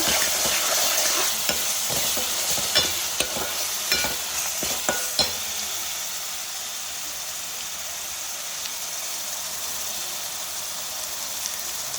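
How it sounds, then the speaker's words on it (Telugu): Ginger paste fries in oil in a continuous, hissing sizzle that is loud and close. Several sharp scraping taps from a stirring spoon come early on, then the even crackle carries on alone. "అల్లం పేస్ట్ వేసానండి. ఇది పచ్చివాసన పోయేంత వరకు ఆయిల్ యాగనిద్దాము."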